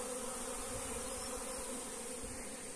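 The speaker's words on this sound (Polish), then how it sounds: "bo tu się jeszcze wiesza rójka" A swarm of honey bees hangs near a hive, making a dense, continuous buzzing drone that stays steady and loud throughout with no voices over it.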